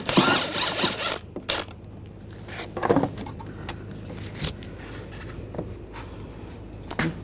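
A ratchet works a bolt loose from the front strut and spring assembly of a 2009-2017 Volkswagen Tiguan, giving loud, close metallic clicks and scrapes in uneven bursts, the busiest clatter at the start and a few sharp knocks later.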